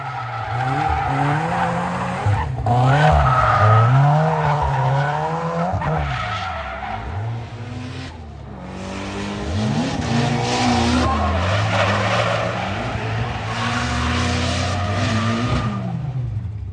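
A race car skids and squeals its tires around a track infield, engine revving and dropping in pitch through repeated slides, loud and close with no talk.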